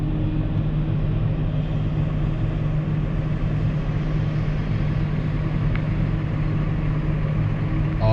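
A farm tractor with part of a tree snagged on its beacon, pulling a power harrow with a rear roller while drilling grass seed, drones past in a field with a steady, fairly loud engine rumble throughout.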